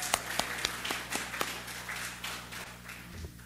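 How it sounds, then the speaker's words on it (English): Scattered applause from a small audience at a general meeting, with a few sharp claps standing out over a low room hum, rather quiet and thinning out toward the end. "That's worthy of a round of applause"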